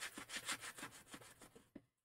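Quick rhythmic scraping of a sanding block rubbing back and forth on painted wood edges, roughing off paint, close and fairly quiet, about a dozen strokes.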